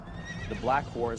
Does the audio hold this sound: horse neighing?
yes